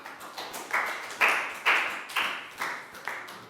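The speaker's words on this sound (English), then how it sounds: "High five, big round of applause for Nadia." A round of classroom clapping for a pupil during a Year 3 maths lesson: about six distinct, evenly spaced claps, fairly close and moderately loud, with no talking over them.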